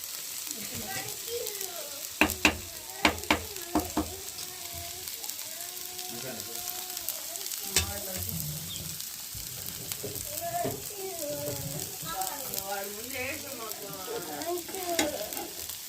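Rava dosa roasts in an oiled pan, a steady soft sizzle running throughout, broken by several sharp scraping clicks of a spatula against the pan.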